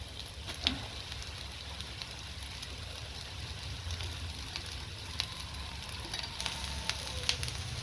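Squid frying in a pan with sautéed onions and fennel seeds, a soft continuous sizzle with faint scattered crackles and light stirring sounds.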